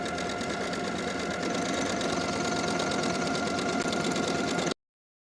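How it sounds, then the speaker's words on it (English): A sewing machine stitches a buttonhole on a plaid wool jacket, running as a continuous fast mechanical whir with a steady rattling pulse for nearly five seconds before stopping abruptly. "Mark the placement of your buttonhole and sew the buttonhole in place."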